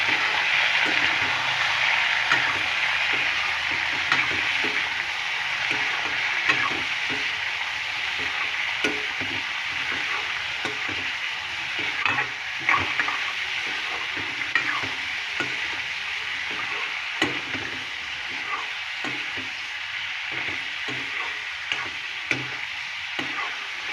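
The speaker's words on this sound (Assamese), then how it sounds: "মাংসখিনি দি উঠাৰ পিছত অকণমান লৰাই দিম।" Pork meat frying in a pan with a steady loud sizzle, punctuated by repeated scraping stirs and light clicks of the utensil against the pan.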